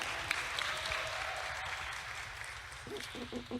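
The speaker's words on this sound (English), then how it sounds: "Clap, clap." An audience applauds at a public gathering, steady clapping from a crowd for several seconds, with a voice briefly speaking near the end.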